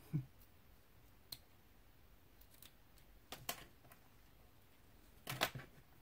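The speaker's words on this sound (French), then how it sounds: "Donc là on vient couper un petit peu notre petit ruban pour pas trop que ça fasse pas beau." Scissors snipping a small ribbon, a few faint isolated clicks followed by two clusters of sharper snips, close but quiet over a low background hiss, no talking.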